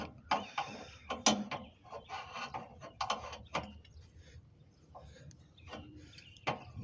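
A car jack being cranked to raise a car for a tire change, giving faint, irregular ratcheting clicks and metallic knocks in short bursts, with quiet background noise and no talk.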